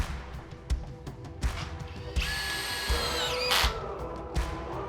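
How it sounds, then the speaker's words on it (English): A power drill drives self-drilling screws into the profiles of a glass sliding door, giving a loud, rising whine that holds for about a second and a half over light background clatter and a few sharp taps. "You can then screw down the profiles along the side using the self-drilling screws supplied."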